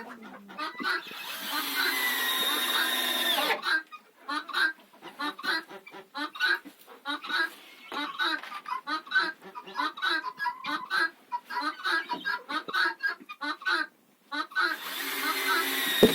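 Hens cluck and squawk in short, close bursts around new nesting boxes, with a denser noisy stretch at the start and end; a voice talks over the birds.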